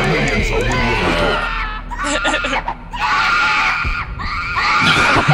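Creatures screaming in the video game Dungeon Keeper, loud overlapping shrill shrieks in several bursts, mixed with clucking game sounds and a low throb.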